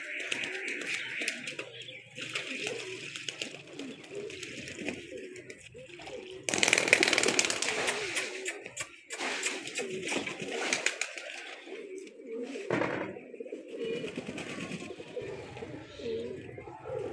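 Soft pigeon cooing repeats over a steady background wash, with splashing water and a brief louder burst partway through.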